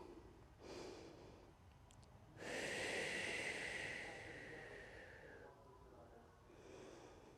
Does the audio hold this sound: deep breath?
yes